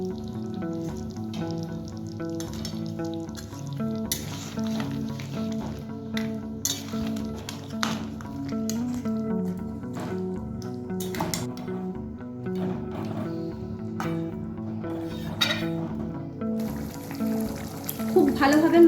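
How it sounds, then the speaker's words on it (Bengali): Fish heads simmering in a thick korma gravy make a soft continuous bubbling and sizzling close by, with occasional clinks of a utensil against the pan. "খুব ভালোভাবে মাছের মাথাটা ফুটছে।"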